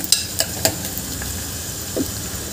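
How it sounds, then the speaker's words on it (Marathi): Onion frying in a pan as the base for a Maharashtrian green-pigeon-bean (popat) curry: a low steady sizzle with a few sharp clicks of stirring and a brief scrape near the end, no voices. "आपल्याला कांदा छान होऊ द्यायचा आहे 2-3 मिनटं"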